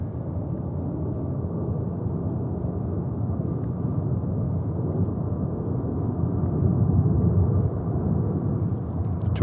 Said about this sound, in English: Followed by Delta on a 321 Neo.